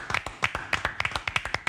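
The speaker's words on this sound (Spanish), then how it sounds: "Fuerte el aplauso para los chicos del vóley." An audience applauds a volleyball team in a television studio, with a light, quick patter of separate claps that sound like only a few people clapping close by.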